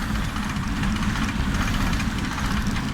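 A motorcycle engine hums steadily with a low, continuous drone and slight rhythmic pulsing, close and even in level throughout, with no clear gear change standing out.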